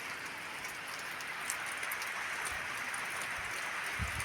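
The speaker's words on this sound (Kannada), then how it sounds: "ಸುಮ್ಮನೆ ಏನೋ ಕಲ್ಲಿನ ಮೇಲೆ ನೀರು ಬೀಳ್ತದೆ ಅಷ್ಟೇ" Light, steady patter of rainwater falling on hard stones, soft and continuous with occasional louder drips, in Kotga village, Chincholi taluk, Kalaburagi district, Karnataka.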